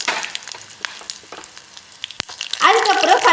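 Mustard seeds and urad dal lentils crackle in hot oil, scattered faint pops and clicks building into a louder, denser sizzle near the end.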